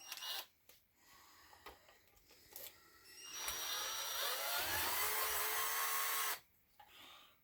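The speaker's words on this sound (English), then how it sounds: "Need a screwdriver, so I got this handy tool." A handy screwdriver tool turns stubborn screws on a 3-rail model train car during a coupler conversion. A few short clicks and scrapes come first, then a sustained whirring grind for about three seconds that stops abruptly.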